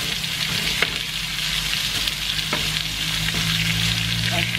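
Carrots are stirred into a corn soup with shrimp in a hot pot, giving a steady, loud sizzle with occasional scrapes of the spoon and no talking.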